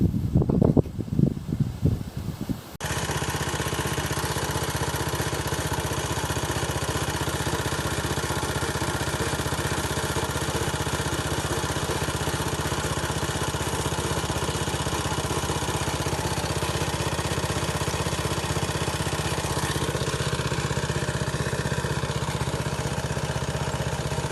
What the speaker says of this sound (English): You've got to have a decent compressor to do this.